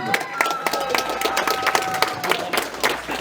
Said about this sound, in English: And another round of applause is deserved for you,